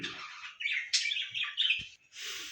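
Pet budgerigars chirp and tweet in a steady run of bright, close, fairly loud calls, with brief pauses between bursts.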